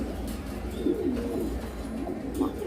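Fancy pigeons at a farm coo in low, soft repeated calls, a few murmuring phrases rising over a steady background hum.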